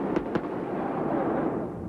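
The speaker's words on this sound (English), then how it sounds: "fireworks lit up the Melbourne sky" Fireworks bursting over the Melbourne Cricket Ground stadium, two sharp pops early on above a steady, dense crowd-like rumble, moderately loud and without speech.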